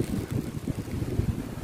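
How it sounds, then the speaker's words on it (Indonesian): Strong wind buffets the microphone on a hilltop during a hike up Bukit Repin, a steady low rumbling roar with gusty pulses and no voices. "Kat atas ni angin kuat sikit."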